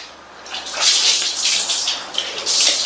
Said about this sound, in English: Afterwards, you'll be washing your hands like that.